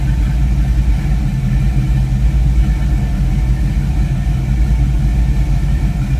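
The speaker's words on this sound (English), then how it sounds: "Great sounding car." A 1932 Ford Roadster engine runs at steady idle close by, giving a loud, continuous low rumble with no talking.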